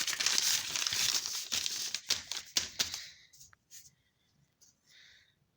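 Paper is crumpled and crinkled up close in loud, dense rustling bursts for about three seconds, then a few fainter crackles trail off into near silence.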